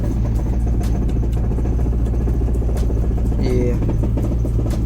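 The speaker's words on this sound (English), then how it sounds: "Now it just sounds like straight up rod knock." Honda Civic with an H2B engine swap running with rod knock, a dense low engine rumble with rapid, regular ticking and knocking throughout; a voice briefly speaks over it.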